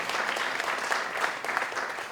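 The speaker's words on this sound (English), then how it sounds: "You can clap for it." Audience at a premier's awards ceremony at City Hall in Bermuda breaks into continuous applause, a steady wash of many hands clapping from moderately far, with no talking over it.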